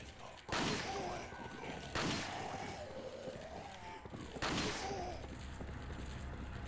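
Three loud, widely spaced gunshots in Resident Evil 4, each a sharp close blast with a ringing tail, separated by quieter game ambience.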